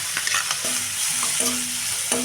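Onions, green chillies and curry leaves fry in a pan for chamagadda (taro root) pulusu, with a steady hiss and occasional stirring knocks. No voices are present.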